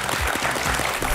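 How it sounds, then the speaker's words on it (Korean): Brief burst of audience applause greeting a lecturer at a Korean televised talk event, a dense, loud patter of clapping lasting just over a second. "박수로 맞아주세요."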